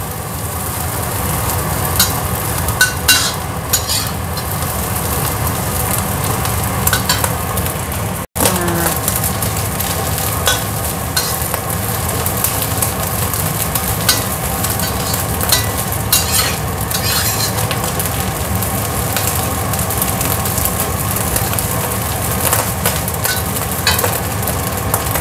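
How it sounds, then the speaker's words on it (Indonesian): Fresh wet anchovies stir-fry in a pan, a steady close sizzle with scraping stirring strokes running throughout, briefly cut off once, no talking. "Ini teri itu teri basah seger. Masukin, tumis."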